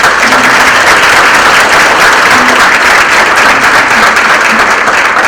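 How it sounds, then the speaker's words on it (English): Loud, steady round of applause from a crowd at a Hispanic Heritage breakfast event, dense continuous clapping that fills the room without letup and no speech over it. "Let's give them a round of applause."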